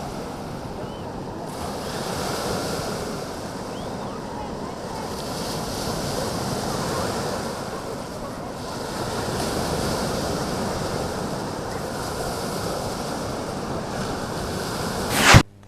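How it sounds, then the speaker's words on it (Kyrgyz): Wind-driven waves roll across Kara-Kol reservoir in a steady, loud wash, with gusting wind buffeting the microphone throughout and a sharp bump at the very end. "Түндүк тараптан мезгил-мезгили менен соккон шамал суу сактагычта ири толкундарды жаратып"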